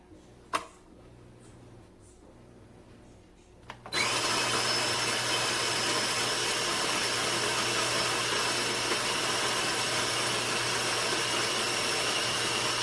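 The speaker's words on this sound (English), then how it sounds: "now I can grind my beans right into the pot" Baratza Encore ESP coffee grinder grinding beans straight into a reused Nespresso pot, a loud steady motor whir that starts abruptly after a few quiet seconds with small clicks and runs on alone.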